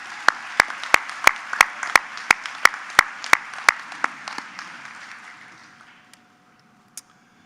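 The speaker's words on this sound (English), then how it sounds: "how about one more round of applause for that anthem?" Audience applause at a spring commencement ceremony after the anthem, with distinct rhythmic claps standing out over the crowd before it fades out, leaving one last stray clap near the end.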